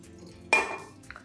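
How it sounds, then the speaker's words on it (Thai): Egg whites going into a metal mixer bowl, a single sharp clinking knock of utensil against the bowl, close and fairly quiet, with faint kitchen clatter after. "เราจะใส่ไข่ขาวลงไปในหม้อตีนะครับ"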